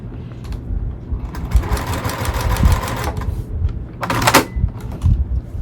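A home sewing machine stitching in a quilting project, with a few short bursts of close mechanical whirring and clatter among handling noises, one longer steady run in the middle.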